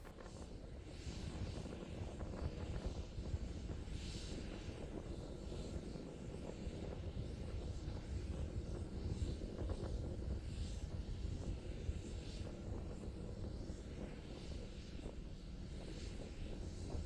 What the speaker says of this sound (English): continuing to climb on power of two engines